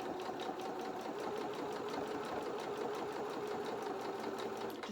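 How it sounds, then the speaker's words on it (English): Sewing machine stitching felt fabric, running steadily and continuously at close range with a fast, even mechanical whir throughout, no pauses or voices. "I'm just going to line my fabric up with the edge of the zigzag stitches, and then we can start sewing."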